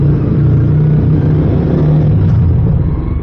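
A Yamaha Sniper 155R motorcycle engine runs loud and close with a steady, dense rumble and a slight rev swell, no voices.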